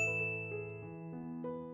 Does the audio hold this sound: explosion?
no